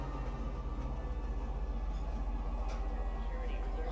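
Metro train rumbling into Metro Center station, a steady low rolling drone with faint clanks and a brief high squeal, heard under a station announcement and nearby talk.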